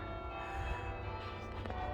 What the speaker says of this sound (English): Now you've got some bells from the cathedral behind me.